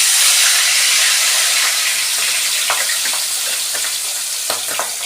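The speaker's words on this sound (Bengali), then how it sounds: "এবার আমরা মাছ ভাজাটা দিয়ে দেব।" Pabda fish frying in mustard oil in a hot wok gives a loud, steady sizzle and hiss that holds for the whole stretch, with small pops and spatters breaking through now and then.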